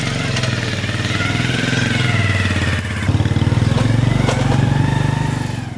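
A motorcycle engine runs close by with a steady, throbbing putter that rises slightly and then eases off, and no one talks.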